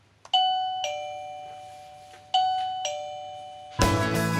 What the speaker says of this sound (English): then the chime will ring.